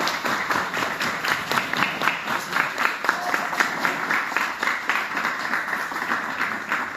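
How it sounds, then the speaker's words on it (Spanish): An audience applauds at a Spanish-language panel talk, a steady wash of many hands clapping, moderately close, holding evenly throughout with no speech over it. "Gracias y otro aplauso para ellos,"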